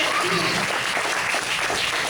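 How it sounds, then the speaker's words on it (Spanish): A crowd claps steadily and loudly throughout, a dense, continuous round of applause. "Denle un aplauso"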